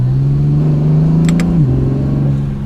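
A loud, close Acura NSX engine drones steadily under acceleration, its pitch rising slightly before dipping as the revs change, with brief turbo whistles.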